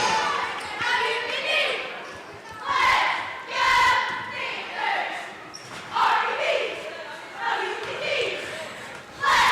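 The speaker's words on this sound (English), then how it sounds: "over everything, you can hear those cheerleaders cheering down there" Cheerleaders cheer and chant at a high school basketball game in a busy gym, their voices rising in several loud bursts with crowd noise and the thump of bouncing balls around them.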